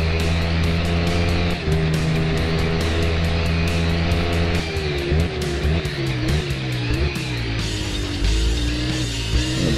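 Motorbike engine in the racing game RIDE on PS4 holds a loud, steady high drone, then revs climb and waver as it accelerates, with faint tire squeal.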